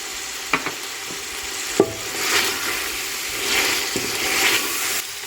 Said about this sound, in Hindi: अब इसको फिर से भूनेंगे दही के साथ